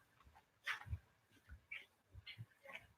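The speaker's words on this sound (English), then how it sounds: "Got a frantic dog. You can hear her." An excited, frantic female dog makes short whimpers and yips in scattered bursts, fairly faint and close, with no talking over it.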